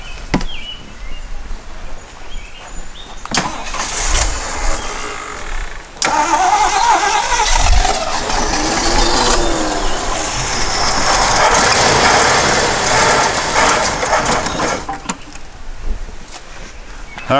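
A 1977 Jeep CJ-5 that sat unused for ten years cranks and catches, its engine roaring loudly and running rough for several seconds before cutting out, with a few sharp clunks around it.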